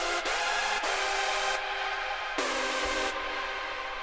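Layered hardstyle synth leads, heavily detuned and stacked with a top lead, form a dense, bright wall of sustained sound with a few abrupt chord changes and cutoffs; loud and continuous, with no voice.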